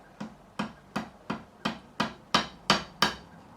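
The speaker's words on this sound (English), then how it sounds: "I'm going to take my not straight edge, my fretting hammer, and we're just going to knock this, and it should just knock out." A fretting hammer knocks the nut out of a Harley Benton SC Custom electric guitar: nine sharp, evenly spaced taps that grow gradually louder, each a crisp close-up knock with a short ring, no voices.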